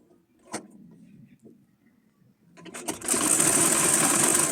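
An electric sewing machine runs steadily from about three seconds onward, stitching lining onto a traditional khan-fabric toran, preceded by a few soft handling clicks and rustles.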